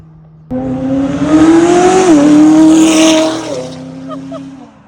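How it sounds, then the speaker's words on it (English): A McLaren 570S with a Valvetronic straight-pipe exhaust revs up hard from idle, its loud, close engine note climbing and holding high for a few seconds before dropping back to a lower idle burble. "That's a proper supercar sound, guys."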